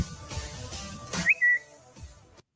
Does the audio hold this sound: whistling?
yes